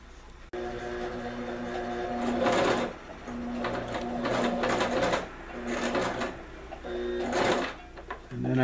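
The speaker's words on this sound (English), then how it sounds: "I'm just gonna begin to sew" A sewing machine stitches fabric for a homemade foraging bag in several close, whirring runs, each a rapid mechanical hum that starts and stops with short pauses between bursts.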